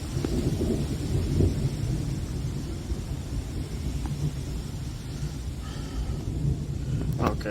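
Low, rolling thunder rumbles continuously through a severe thunderstorm in Breedsville, Michigan, loud and sustained with steady rain-like hiss and a few faint higher clicks near the end.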